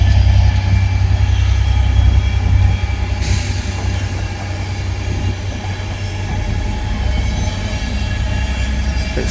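A Transport for Wales train pulls away from Ardwick Station in Manchester, a loud, close, continuous rumble of engine and wheels on the rails that eases slightly as it departs.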